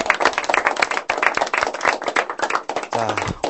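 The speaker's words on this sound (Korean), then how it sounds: "우리 꼭 붙기를 기원하면서 박수 쳐주면서 오늘 자리를 마무리할까 합니다." A group claps hands together at the close of a Korean gathering, wishing a student success on an exam; dense, steady clapping fills the moment, with a brief voice near the end.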